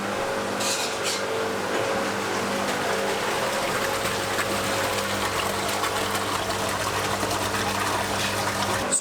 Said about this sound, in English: We're going to put more water into the sump.